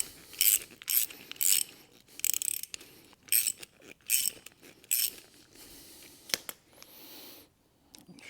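A ratchet and socket tighten a hose clip on a car, making close bursts of rapid clicking strokes separated by short pauses, with a few sharper knocks toward the end.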